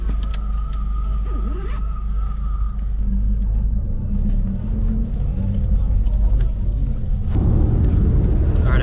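A bus drives along a road in Kyrgyzstan, its engine rumbling low and steady throughout and swelling louder near the end, with people talking over it.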